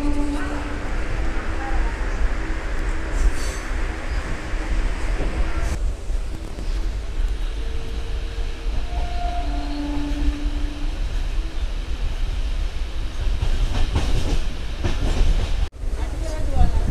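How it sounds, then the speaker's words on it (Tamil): Train pulling into Kulithalai railway station, a steady loud rumble of carriages with wind and rattling, faint brake squeal tones midway, and a sharp clunk near the end. "குளித்தலை ரயில்வே ஸ்டேஷன் தாங்க உள்ளே அரைவாகிறோம்."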